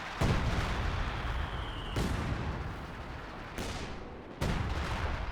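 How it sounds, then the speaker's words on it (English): Base howitzers fire in the World War II strategy game Company of Heroes 2. Several heavy booming shots land in a ragged series, each with a sharp crack and a rumbling tail, and no commentary is heard over them. "Base howitzers ready to plaster a target."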